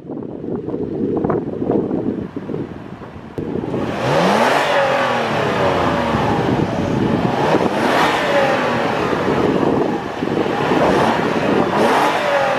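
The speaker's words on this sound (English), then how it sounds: "I'll cut in a second to the engine note, the rev sort of count, so you can get a little hear of this thing" The 4-liter V6 of a 2022 Toyota 4Runner SR5 revs up hard, its roar swelling and falling in repeated pulls, loud and close with wind buffeting the microphone.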